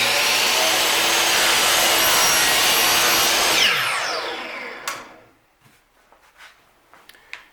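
A power saw cuts an MDF board to a 41-inch length, a loud steady broadband whine that runs down after about four seconds, followed by faint scattered clicks and handling noises.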